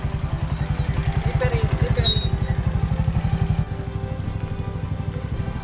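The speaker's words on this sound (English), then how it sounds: "when the small engine of a motorcycle struggles at that gradient" A small motorcycle engine struggling up a steep gradient chugs in a fast, steady rhythm close by, laboring at a constant pitch, with a brief drop in level partway through.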